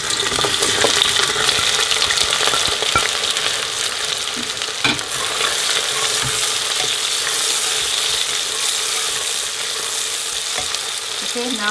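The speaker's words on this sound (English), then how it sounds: "Now we're going to fry the onions till they're nice and golden brown." Onions fry in oil with cinnamon stick, cloves and green cardamom for meat pilau, a constant close, hissing sizzle with occasional clicks from stirring.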